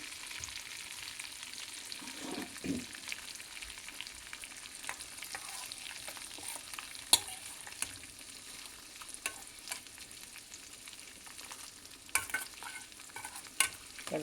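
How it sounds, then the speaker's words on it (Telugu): Cashews frying in oil in a pan as tempering for dal khichdi, a soft continuous sizzle broken by stirring clicks and scrapes of a spoon against the pan, with no talking. "సిమ్లో పెట్టి తాలింపు చేసుకోవాలండి."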